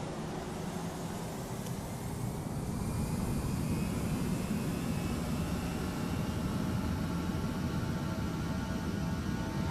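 Airbus A320 jet engines spool up to takeoff thrust in a flight simulator, a steady, loud broadband roar with a low rumble that builds slightly after two seconds and then holds constant, with no talking.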